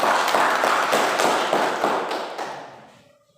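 Students in a classroom give a round of applause, fast uneven hand clapping at moderate distance that steadily dies away into quiet over a few seconds.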